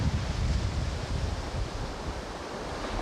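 Heavy wind from Hurricane Andrew in Florida buffets the microphone in a continuous loud roar, blending with the rumbling wash of ocean surf close by.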